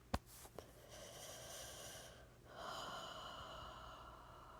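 Breathing close to the microphone, opening with a sharp sniff or snort and a smaller one after, then long soft airy exhales and inhales, quiet and without talk.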